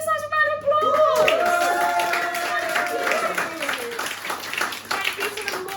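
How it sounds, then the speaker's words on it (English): A small audience at a stand-up comedy night in a cafe bar claps and cheers, the applause mixed with loud voices and whoops rather than standing alone. "give yourselves a round of applause"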